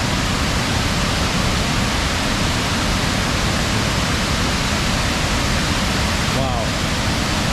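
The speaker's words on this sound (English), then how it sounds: "This is the Kayak River and the Upper Peninsula Falls." Loud, steady roar of a waterfall on the Kayak River in Michigan's Upper Peninsula, a dense unbroken wash of falling water close by that fills the whole clip.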